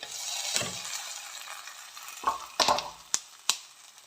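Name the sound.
pouring curry leaf tempering into fish curry, sizzling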